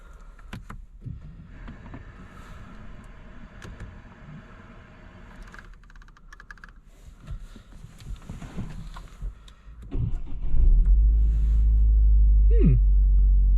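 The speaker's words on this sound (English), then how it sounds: "Let's see if the car starts alright." A keyless-start car, collected from an auction, fires up around the ten-second mark and settles into a loud, steady idle rumble after a stretch of quiet shuffling and handling noises.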